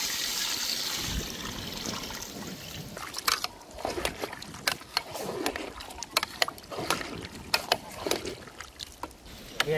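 Water pours and splashes into a large pot of Sinhala-style chicken curry being cooked outdoors in Sri Lanka for a feast for 300 children. The steady gushing runs at close range with scattered clatter.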